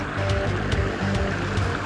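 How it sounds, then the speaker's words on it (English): Fast floodwater rushing through an Amazon jungle river swollen by rain, a loud, steady churning roar of moving water close by with no one speaking. "in the last 5 minutes, thanks to the rain, the river has risen about 3 feet"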